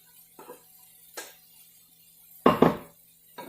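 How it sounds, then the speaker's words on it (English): Cooked rice scooped from a hot pan into a bowl, a few sparse, close clinks and scrapes of utensil against cookware, with the loudest pair of knocks late on, separated by quiet gaps. "I'm actually going to transfer the rice into a bowl so that it doesn't continue to cook"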